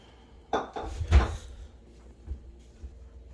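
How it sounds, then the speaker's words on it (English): A metal baking tray holding walnut brownie batter is slid into an oven, making a few close clanks and knocks of metal on the rack in quick succession, then a softer thud as it settles, with quiet background afterward. "Make sure you put your baking tray in the middle"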